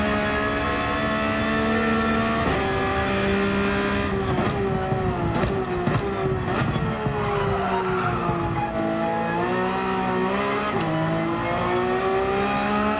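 A Lexus race car in Gran Turismo 7 at Laguna Seca holds a loud, steady engine note as the pitch climbs and drops through gear changes, while tires squeal and skid through corners.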